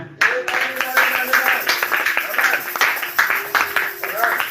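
A church congregation claps along after a sung hymn, steady rhythmic hand claps continuing throughout, mixed with voices and a held tone underneath.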